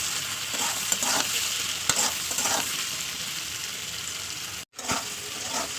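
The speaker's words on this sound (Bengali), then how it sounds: "আমি এক চামচ লবণ হলুদ ও গুঁড়ো লঙ্কা নিয়ে দিয়ে দিলাম দিয়ে ভালো করে আমি কষাবো তেলের উপরে" Potatoes frying in oil with salt, turmeric and chili powder, a dense steady sizzle with rhythmic stirring scrapes, close and loud, briefly cutting out near the end.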